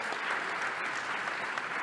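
Steady applause from an audience at a public gathering on migrant solidarity, a close and continuous patter of many hands clapping, with no speech over it.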